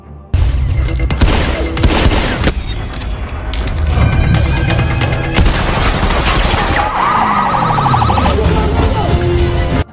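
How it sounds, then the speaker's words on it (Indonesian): Loud bursts of gunfire and booming shots from a gangster film shootout, with an emergency alarm siren wailing beneath the rapid volleys through most of the stretch. "Damien kemudian mengaktifkan alarm darurat dan menyandra Georgie"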